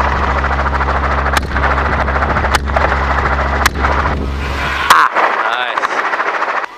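Helicopter rotor drone with a steady low thump during an aerial hog hunt, loud and close, broken by several sharp gunshots before the engine noise cuts off abruptly near the end.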